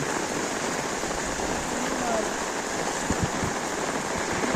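Steady rain falling on flooded ground near Kopar station in Dombivli, with broadband hiss of rain and water filling the scene continuously; a few soft thumps and faint distant voices sit under it.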